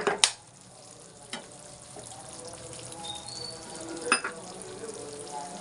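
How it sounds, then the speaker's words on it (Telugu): Thickened boiled milk goes into a pan of simmering bread halwa syrup with dry fruits, giving a soft sizzle and bubbling under a few sharp clinks of a utensil against the pan. "ఈ స్టేజ్లోనే కొంచెం కాచి చల్లార్చిన చిక్కటి పాలు పోసుకుందాం."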